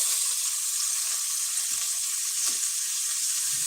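Steady, hissing sizzle of hamburger meat frying on high in a hot pan, continuous and close, with faint clinks in the background.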